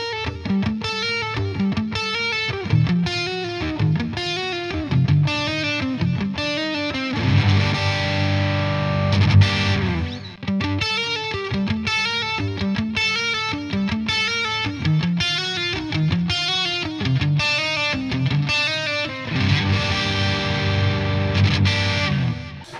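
An electric guitar in the Telecaster style is played on its neck pickup through distortion, with chugging rhythmic chords and riffs, a sustained ringing section partway through, and a steady, loud and close tone throughout, without any talking.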